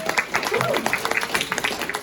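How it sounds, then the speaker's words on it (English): Applause from a conference audience at a women's leadership forum, a scattered round of individual claps close by and fairly light, with overlapping speech running across it. "Please give applause to yourself and all the people here"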